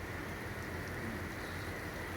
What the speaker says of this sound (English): Tyler, I'm just astonished that we got pounded on by rain instead of hail